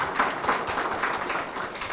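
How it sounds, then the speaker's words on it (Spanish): Audience applause at a lecture on Dominican traditional music and ethnomusicology: a steady, dense patter of clapping from a room of people, holding at an even level for a couple of seconds. "Un aplauso, por favor"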